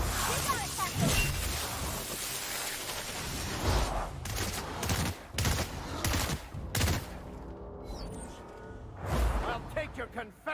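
Gunfire in The Outer Worlds, sharp repeated bursts and single shots cracking over a busy game soundscape, with brief gaps between volleys and a voice talking over part of it.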